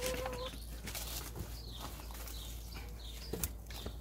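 Hens in a small urban chicken coop cluck softly and intermittently at close range, with faint scratching and rustling around them.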